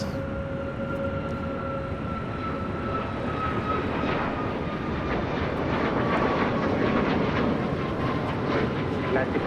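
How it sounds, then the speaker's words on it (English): A Boeing 777 airliner taxis toward the Tom Bradley terminal gates at LAX, its engines giving a continuous, loud jet roar and whine throughout, with voices talking over it. "the 777 heading over to the gates on the southeast corner of Tom Bradley"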